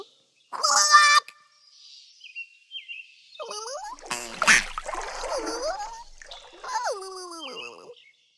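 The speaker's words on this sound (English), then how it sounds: "Q is for quack." A duck gives a few scattered, nasal, honking quacks with a brief burst of splashy noise in between, fairly soft and with no voices.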